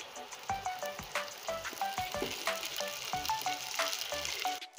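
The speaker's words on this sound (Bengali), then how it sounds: "এবার আমি তেলের ভিতরে পটল দিয়ে দিয়েছি।" Sliced pointed gourd (potol) sizzles and crackles in hot oil in a pan, a steady close frying hiss with repeated clinks and scrapes of stirring throughout, no talking.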